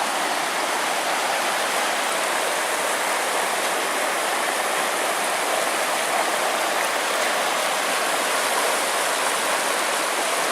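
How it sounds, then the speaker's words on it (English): The Temperance River rushing along the Superior Hiking Trail, a steady, close, full-band wash of flowing water that holds constant with no break or voices. "we finally made it down here to the Temperance River"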